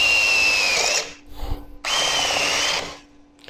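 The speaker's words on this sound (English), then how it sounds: "I use a drill, approximately 5 millimeter drill." An electric drill with a roughly 5 mm bit whines at high speed in two bursts while boring a hole in steel, with a short pause of quieter handling noise between them, close by.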